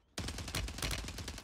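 Rapid automatic fire from an FJX Horus in Warzone 3, a dense sustained burst of shots starting abruptly and rattling on steadily, loud and close with no voices.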